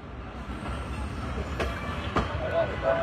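The Joydebpur Commuter train rolls slowly into Tejgaon railway station with a low continuous rumble, a couple of metallic clanks and thin wheel squeals toward the end, while a person talks over it.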